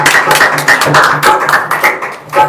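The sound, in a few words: congregation clapping loudly in church service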